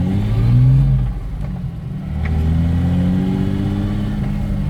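BMW car accelerating hard during a drift lesson, a loud close engine roar that climbs in pitch, eases off and climbs again over a few seconds, with no talking.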